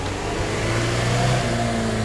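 A Lada Niva's engine roars steadily close up, revving under strain as the car struggles through thick mud, with a continuous loud drone and no talk.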